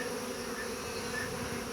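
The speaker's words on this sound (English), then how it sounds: "the bees are so gentle" Honeybees hum around a hive in a steady, dense, fairly soft buzz that stays even throughout, with no talk.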